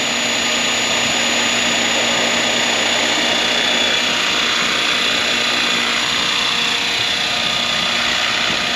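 A scale radio-controlled model helicopter flies outdoors, its rotor and motor giving a steady, loud, broadband whine and hiss that holds evenly throughout, with no voices over it.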